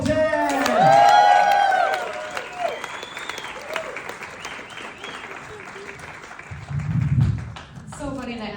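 Comedy club audience at Wiseguys Salt Lake applauds and cheers for a comedian, with whoops over steady clapping; a comedian speaks over the crowd near the end.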